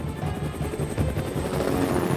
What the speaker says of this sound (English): The helicopter and brains take off,